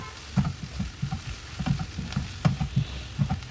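Chopped fenugreek leaves fry in a tempering of hot oil for a rajma methi curry, giving repeated crackling bursts and soft stirring knocks over a low, steady sizzle.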